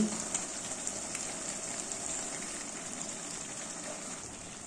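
Water pours into a pan of hilsa fish cooking in mustard-poppy masala. It runs as a steady, hissing gush that is fairly faint and continuous, with no voices.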